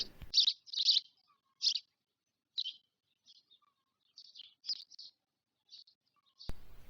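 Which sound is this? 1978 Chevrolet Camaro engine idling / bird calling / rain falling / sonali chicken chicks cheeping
bird calling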